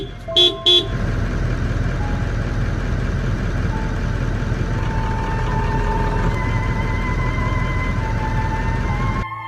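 A car engine runs loudly and close as the vehicle is driven at a lion near a tent camp, opening with two short horn toots and then a steady engine drone that cuts off at the end.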